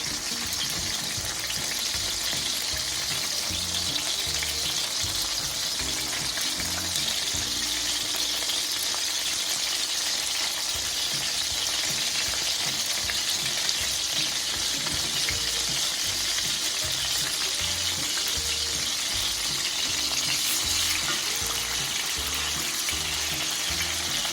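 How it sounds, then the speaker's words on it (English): Smash burgers sizzle on a griddle in a steady, loud, dense frying hiss that stays even and continuous throughout, with no voices. "while our burgers are cooking"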